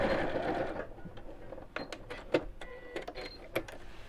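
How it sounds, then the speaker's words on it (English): A sewing machine runs in short bursts of rapid mechanical stitching with brief pauses between them, close by, with no talking over it. "Unless that's just my sewing machine."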